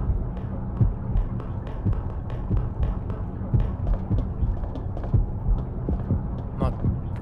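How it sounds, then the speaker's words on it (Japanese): A fast heartbeat in the Yomawari horror game, low thudding pulses in a steady quick rhythm over a dull hum, with muffled talking underneath. "鼓動が早いときは"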